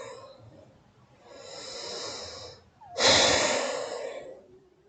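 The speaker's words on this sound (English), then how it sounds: "Breathing in and out through the nose." Slow, deliberate breathing in and out through the nose during a yoga stretch, a soft inhale followed by a louder, longer airy exhale, close to the microphone with no talking.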